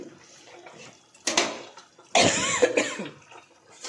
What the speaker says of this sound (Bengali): আর হয়েছে আমার প্রচণ্ড কাশি